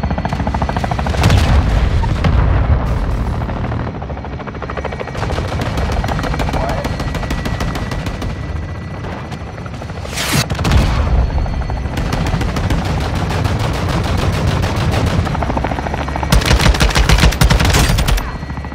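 Airstrike explosions and gunfire in the Call of Duty: Modern Warfare II campaign, with dense continuous automatic fire, heavy booming blasts and rumbling battle noise throughout, loud and sustained.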